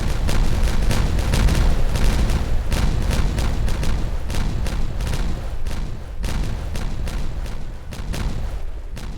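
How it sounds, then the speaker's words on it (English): Several pieces of dynamite go off at once in the video game Stone to Space, a loud, dense barrage of overlapping blasts and booming cracks that rumbles on for several seconds with no talk over it. "there was multiple pieces of dynamite going off at once"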